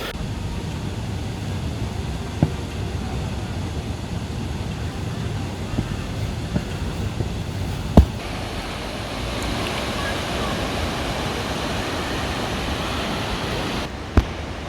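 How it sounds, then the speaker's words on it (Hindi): Jogini Waterfall in the jungle gives a steady, broad rushing roar that continues unbroken throughout, with a few faint knocks and wind buffeting on the microphone. "वहाँ ऊपर में है वाटरफॉल"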